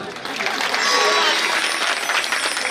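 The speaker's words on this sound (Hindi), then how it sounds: "एक बार तालियां तो बजा दिया करो" Audience clapping at a Bhagwat Katha religious discourse: a dense, continuous patter of many hands, loud and close, sustained across the whole moment without pause.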